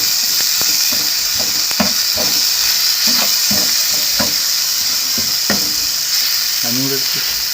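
Vegetables sizzling and being stir-fried in a pan for veg noodles with green chilli and salt added, a constant bright hiss with repeated scraping strokes of a spatula and a brief voice toward the end.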